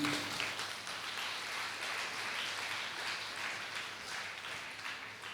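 Audience applause at a church festival for Saint Anthony in Mukundapuram, a steady wash of many hands clapping at moderate distance, sustained throughout without a break.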